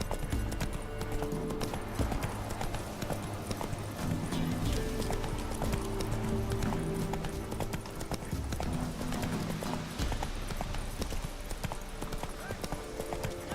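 Horse Roach gallops in a video game with a steady clip-clop of hooves, close and continuous, over music and ambient game sound, with occasional speech.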